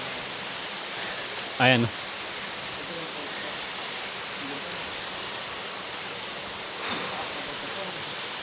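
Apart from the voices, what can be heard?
Hulo hidden waterfall in Ambon-Ambon, Tagaytay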